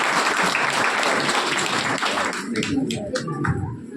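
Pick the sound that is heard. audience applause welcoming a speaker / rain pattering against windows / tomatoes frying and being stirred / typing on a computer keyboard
audience applause welcoming a speaker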